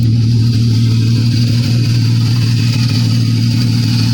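A 2016 Chrysler 200C's 3.6L engine idles steadily at about 700 RPM with a fresh alternator fitted, giving a close, even low hum and a constant drone that runs unbroken through the whole stretch with no voices.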